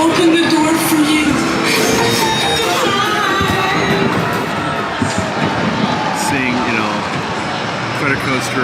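A crowd screams and cheers at a California Adventure theme park after hours, the distant shouts blending into a dense hubbub with nearby voices talking over it.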